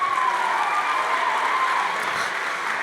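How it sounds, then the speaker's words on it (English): Sustained applause from a benefit event audience, a dense, even wash of clapping that fills the room, with a faint murmur of voices underneath. "Let's give this side of the room a big round of applause."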